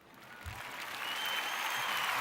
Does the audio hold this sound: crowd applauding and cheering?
yes